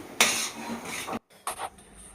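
Spoon scraping and stirring grated potato halwa with jaggery in a pan, a steady rasping stir that stops, then resumes with a couple of short scrapes, close and alone.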